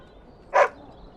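A single short dog bark in Dragon Age: Origins, close and clear over a quiet background, with no voices.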